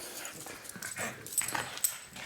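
Dogs playing with a stolen toy on a Las Vegas work day, giving soft whimpers and small yips at close range amid rustling movement, with no talking.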